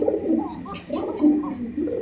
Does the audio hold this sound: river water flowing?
no